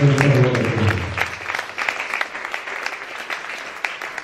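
A church congregation applauds after the Bible reading, a burst of clapping that follows a sung or spoken tone and tapers into scattered claps over a few seconds.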